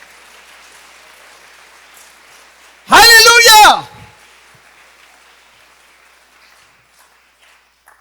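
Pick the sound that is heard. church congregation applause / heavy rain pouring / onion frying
church congregation applause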